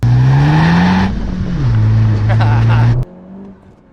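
A 2017 Honda Civic Type R, turbocharged, accelerates hard under boost: a loud close engine drone rising in pitch, a brief drop at a gear change, then climbing again before cutting off, with a voice faintly audible underneath.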